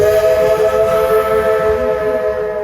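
A Walt Disney World Railroad steam locomotive sounds a loud, sustained chord-like whistle as it arrives at a station, with a low rhythmic chuffing rumbling underneath.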